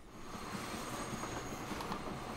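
A train rolls along the tracks in the railway simulation game Transport Fever 2, with a steady low rumble and faint wheel noise that holds evenly throughout.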